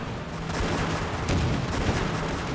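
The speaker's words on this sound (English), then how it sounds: "Let's focus fire here with the mortar." Mortar and artillery fire in the World War II strategy game Blitzkrieg 2, during a beach defense in the Philippines: dense, continuous booming and crackling bursts, loud and steady throughout, with no talking.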